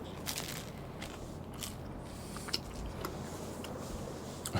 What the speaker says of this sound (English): so sorry for a bit of munching noises